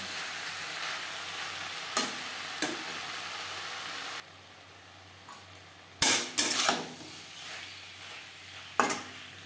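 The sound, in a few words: stirring and frying flat beans and pumpkin in a pan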